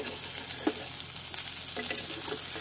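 Tomato-based food sautéing in a pan on a gas stove until crisp, a soft steady sizzle with a few sharp scrapes and clinks of stirring, close by and with no one talking.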